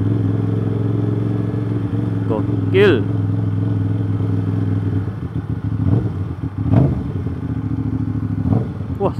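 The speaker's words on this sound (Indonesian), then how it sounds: "suara Aprilia yang bener tuh kayak gini nih kalau udah ganti knalpot nih" An Aprilia RS660 sport motorcycle with an aftermarket exhaust idles with a deep, uneven exhaust burble, punctuated by a few sharp throttle blips and pops while a person speaks briefly.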